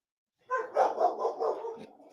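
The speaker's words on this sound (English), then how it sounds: "Oh, the dogs are going nuts." Several excited dogs barking in a rapid, continuous burst of overlapping barks and yips, fairly close and loud, starting abruptly after silence.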